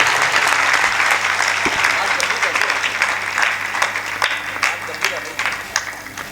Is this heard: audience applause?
yes